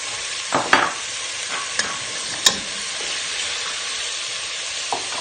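Tomato sautéing in a hot pan for a Marag Laham dish, a steady broadband sizzle with a few sharp pops and clinks of stirring, close and fairly loud, no voices.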